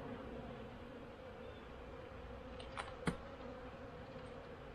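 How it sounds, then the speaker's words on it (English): Honey bees at an opened hive near the brood nest, agitated and cranky, giving a steady low droning buzz close by with a couple of brief louder passes. "Bees are getting cranky, so I must be getting close to the brood nest."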